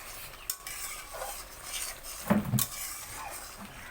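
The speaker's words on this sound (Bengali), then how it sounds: "এবার এই ভাত ভাজাটা গরম করছি।" Leftover fried rice from the previous night being stirred and reheated in a pan at home, with scraping utensil strokes and a couple of louder clinks against the metal over faint background sizzle.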